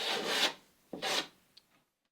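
A hand tool rasps along the laps of wooden lapstrake boat planks being bevelled, two long scraping strokes close by, followed by a short fainter pass.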